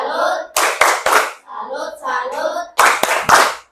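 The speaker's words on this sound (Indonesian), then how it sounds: "Kita beri tepuk salut dulu buat teman-teman." Children in a classroom clapping a rhythmic 'tepuk salut' cheer, sharp bursts of hand claps alternating with children's chanted voices, loud and close.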